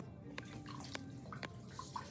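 Quiet sloshing and dripping water, with small splashes and drops as a plaster bandage is dipped and lifted, close but faint.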